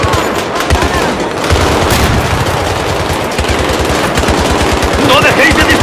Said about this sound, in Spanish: ¡No dejéis de disparar! ¡Recibiendo fuego a las 12!